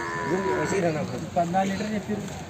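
At a busy Sunday livestock market in Erragadda, Hyderabad, buffalo low and moo among murmuring crowd noise, with several overlapping calls close by over a constant background din.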